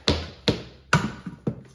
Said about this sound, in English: Dead blow, soft hammer.